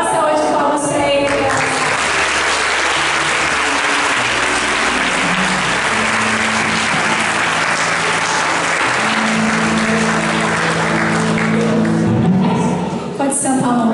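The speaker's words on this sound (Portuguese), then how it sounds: "Dá uma saúde de palmas para ele." Loud, sustained audience applause at a church praise event fills the room for about twelve seconds, with harmonic tones from music or voices running underneath before it fades at the end.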